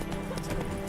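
Hooves of Roach, Geralt's horse in The Witcher, beat in quick galloping clip-clops over a low ambient game score, a brief burst of rhythmic hoof strikes close by.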